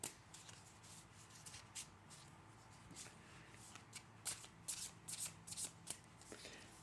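Tarot cards being shuffled in a soft, close series of riffles and flicks, growing busier toward the end, with no talking.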